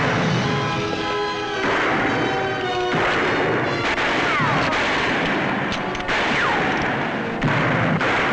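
Gunfire in a western shootout in a canyon: repeated sharp, loud shots and crashing impacts over a constant dense roar, close and intense throughout.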